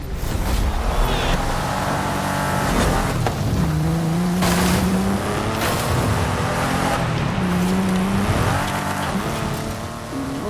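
A Porsche 911 Carrera drives in a racing video game, its engine note rising and falling through gear shifts, with intermittent tire squeals over a busy, loud backdrop.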